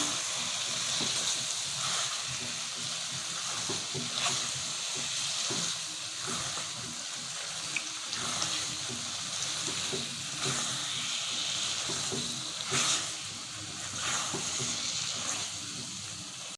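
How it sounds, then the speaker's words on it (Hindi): Small pieces of mutton kidney roasting and stirred in a pan, giving a steady, even sizzle and hiss with faint scrapes of the spoon throughout. "इसको मैं अच्छी तरह भूनूंगी।"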